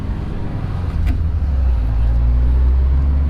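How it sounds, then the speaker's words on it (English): A catless Toyota 86 with newly fitted aftermarket headers and exhaust idles close by as a low, steady rumble that swells slightly partway through. "Now it sounds like a stock Subaru."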